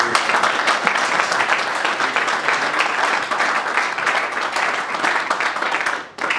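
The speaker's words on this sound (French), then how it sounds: "Est-ce qu'on peut acclamer?" A crowd applauds and cheers loudly and continuously for about six seconds at a ceremony honoring a young corps chief in Congo, with the clapping dropping off sharply near the end.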